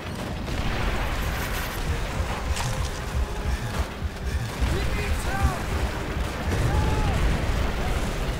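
Dense wartime battle noise from the Call of Duty: World at War PC game, with steady rumbling gunfire and explosions filling the whole span and a few whistling tones riding on top, while voices talk over it.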